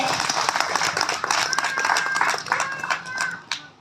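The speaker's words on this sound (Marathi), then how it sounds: "सर्वांना माझी विनंती आहे की एकदा महिला मंडळासाठी जोरदार टाळ्या वाजवावे" Enthusiastic crowd applause at a Jayanti celebration for Dr. Babasaheb Ambedkar, a steady dense patter of many hands clapping for several seconds, loud and close, then tapering off near the end.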